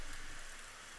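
Steady rain falls in the video game Rising World as a dense, even hiss, loud and unbroken for the whole moment, with no voices.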